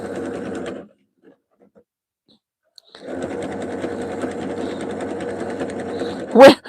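Sewing machine stitching a jelly roll rug in straight and zigzag stitches, running loud and close in a steady hum, with a short stop before it starts up again.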